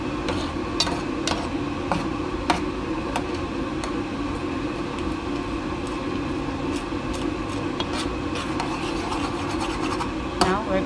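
Macaroni being stirred with spoonfuls of Kraft cheese in a home kitchen, a continuous scraping, rasping rub of spoon against pot with sharp clicks and knocks scattered throughout, steady and close.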